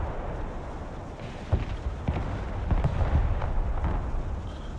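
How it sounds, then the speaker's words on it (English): Artillery fire in the Broken Arrow war game: scattered heavy booms and thuds land at irregular intervals over a dense, rumbling battlefield background, mostly mid-distance. "They got a lot of fucking artillery out there, holy shit."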